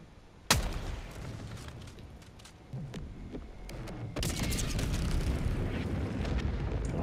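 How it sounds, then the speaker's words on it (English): A Helldivers hellbomb goes off with a sharp, heavy blast, followed by rumbling debris and further bursts that swell into a sustained roar; loud and close. "I love a good hell bomb."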